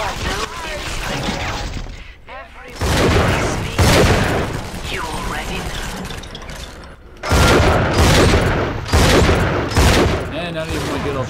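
Several heavy shotgun blasts in Bioshock 2 boom out at irregular intervals amid chaotic game noise, with someone talking throughout.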